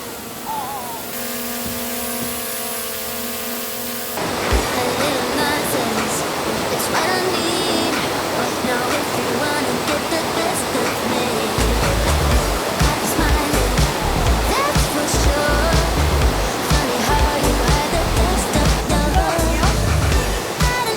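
A mountain valley stream at a well-known campsite rushes steadily and loudly, with a continuous broadband roar of flowing water that fills the scene. A short tonal passage plays over the water near the start.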